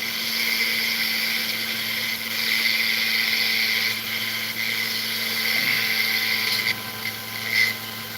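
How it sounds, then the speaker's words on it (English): A fine jeweller's drill runs steadily, with a whining, buzzy tone, as it bores pilot holes through a half eternity ring. It stays continuous and close for the whole stretch, with slight surges in pitch. "We drilled through. Let's look at our pilot holes."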